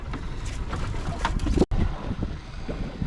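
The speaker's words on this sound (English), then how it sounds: "that wind is getting freaking chilly" Wind buffets a fishing boat off Catalina Island, a steady rushing roar of gusts across the microphone that continues throughout with a brief dropout partway, no speech.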